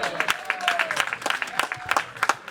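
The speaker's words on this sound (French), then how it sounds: "Applaudissez d'abord pour vous-même." Sparse, uneven clapping from a small group of exhibitors at an international Afro-Caribbean trade fair ceremony, with distinct individual claps scattered over a faint murmur.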